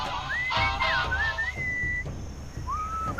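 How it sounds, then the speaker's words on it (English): Melodic whistling from the Sam & Max Beyond Time and Space game, a tune of sliding, held notes played over a busy musical backing with soft percussive beats. "enchanting whistling sound?"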